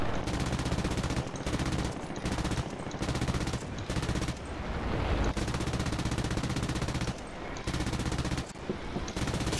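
Aircraft machine guns in War Thunder fire in long, loud, rattling bursts, broken by several short pauses, dense and close throughout.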